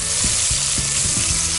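Butter and garlic sizzle loudly in a pan for a lemon butter sauce, a dense, steady frying hiss with faint stirring scrapes, close and without talk.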